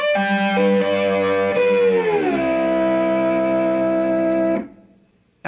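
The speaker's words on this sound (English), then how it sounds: "let's try to put those 2 licks together, and it sounds like this." Two slide guitar licks from a lesson play back to back on a distorted electric guitar, with a sustained chord, a smooth downward glide into another held chord, then a quick cutoff to near silence.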